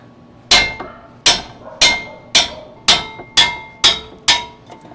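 A hammer strikes 19 mm bolts during a wheel hub replacement on a 2009-2015 Honda Pilot, eight loud sharp metallic blows at a steady, roughly even pace, close by.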